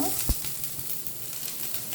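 Onions frying in a pan give a low, continuous sizzle with a single sharp knock near the start, heard up close and fairly quiet, with no speech over it.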